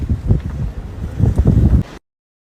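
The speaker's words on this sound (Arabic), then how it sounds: "طبعا الرياح قوية ما تتخيلون قد ايه قوتها" Strong coastal wind roars into the microphone at a beach where waves are visible, a loud, steady buffeting rumble that cuts off abruptly at the end.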